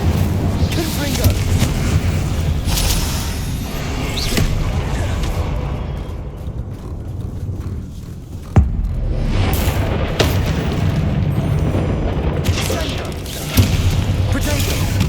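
Confringo spell explosions in Hogwarts Legacy, loud booming blasts amid continuous combat noise and rumbling effects, with a few sharp impacts standing out, and a voice speaking through the fight.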